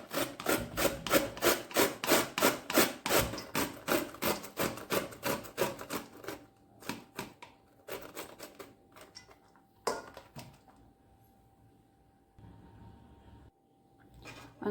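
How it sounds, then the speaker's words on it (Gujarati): Beetroot is grated on a large-hole kitchen grater for halwa, with rapid rhythmic rasping strokes close up that slow and thin out into a few scattered scrapes and pauses, without talking. "બીટને આવી મોટી સાઈઝ આવે તેનથી આપણે ખમણી લઈશું"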